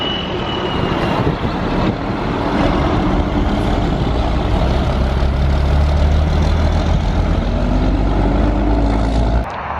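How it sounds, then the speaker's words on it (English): Heavy dump trucks rumble past continuously while hauling dirt at a large theme park construction site, with a loud low engine drone and rolling road noise, plus a brief high squeal near the start. "There's truck after truck coming in with dirt, truck after truck leaving empty."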